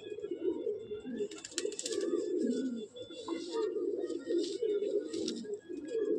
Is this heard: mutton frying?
no